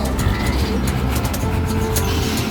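A truck pulls into the Urdaneta City cattle market, its steady low engine rumble and road noise filling the scene amid general market bustle.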